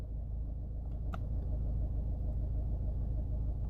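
A Ford C-Max with an intermittent power-steering fault sits with its engine running, a steady low idle rumble close by, broken only by a single faint click.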